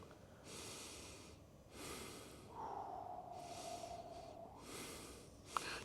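Slow, heavy breaths during headache treatment, a few long inhales and exhales in a quiet room, the last ending with a sharp snort-like sniff.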